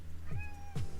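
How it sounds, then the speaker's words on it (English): A house cat meows twice in quick succession, each call a short rising-then-falling cry, loud and close with no talk over it. "This cat is rioting."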